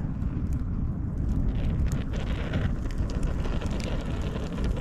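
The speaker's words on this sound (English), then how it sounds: "That wind is definitely up, eh?" Strong wind roars and buffets the microphone in a dense, continuous rush, with a few faint crackles scattered on top.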